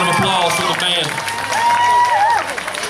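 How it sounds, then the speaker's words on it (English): Crowd applause and cheers for a high school band director at a pep rally, brief clapping mixed with shouting and crowd voices. "Just give him a big round of applause for the band."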